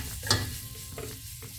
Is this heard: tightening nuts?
no